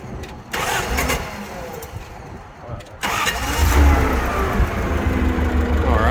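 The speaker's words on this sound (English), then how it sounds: "Starting it up, of course your key's right here." A forklift's engine is started with a key: a short cranking attempt, a pause, then the motor catches and settles into a loud, steady idle close by.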